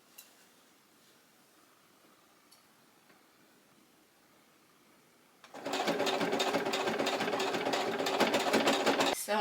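Sewing machine stitching bias binding onto a quilt-inspired blouse, starting abruptly after a quiet stretch and running loud and steady with a rapid mechanical whir to the end.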